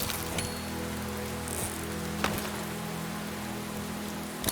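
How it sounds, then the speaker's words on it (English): Rain falls in the island video game Len's Island as a steady patter over an even hiss, with a few sharper drops standing out and no one talking. "I'm glad it's raining, so I don't have to worry about that right this second."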